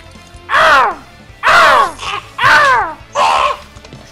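A human voice imitates a crow, giving four loud, close, harsh cawing calls in an even rhythm, each about half a second long with short gaps between them.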